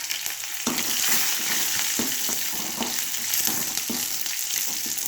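Onion and curry leaves hit hot oil in a pan and crackle into a steady sizzle, with a few sharper spits and stirring scrapes recurring about once a second, moderately close, no one talking.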